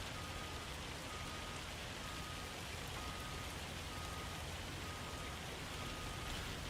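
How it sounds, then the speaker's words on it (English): Heavy rain with hail pouring down in Farming Simulator 25, a dense, steady hiss that stays loud and unbroken throughout, with no voices. "I can turn down the hail sounds"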